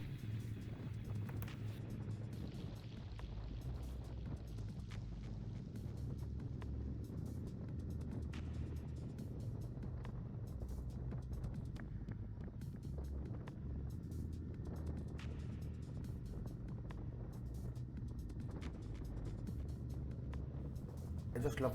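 Motorcycles on a night ride along a ghat road in India, two bikes riding ahead, give a steady low engine drone and road rumble that runs unbroken throughout at an even level.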